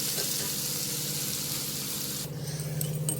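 Fish curry ingredients sizzle and fry in a pan with a steady hiss, then the frying grows a little louder and more crackly toward the end, with no one talking.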